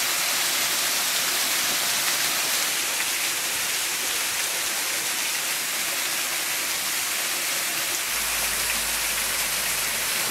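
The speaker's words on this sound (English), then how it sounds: "I'm getting wet right now, but I think it's actually because it's raining." Steady rain falls in a lush garden at Quinta da Regaleira in Sintra, Portugal, a dense continuous hiss of drops on leaves and surfaces, close and even throughout with no voices.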